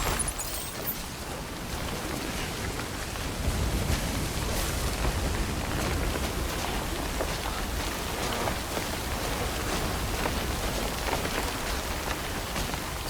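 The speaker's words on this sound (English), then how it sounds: "Some lovely rain sounds." Steady rain falls in the video game Death Stranding, a dense, even hiss of drops on surfaces that holds constant throughout with no other sounds above it.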